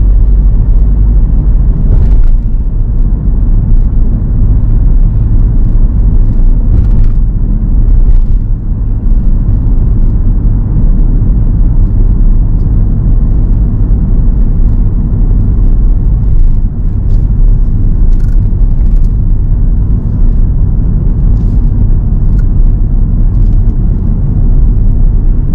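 A car is driven in third gear on a 30 mph road in West Didsbury, giving a loud, steady low engine and road rumble from inside the cabin that goes on throughout, with no talking.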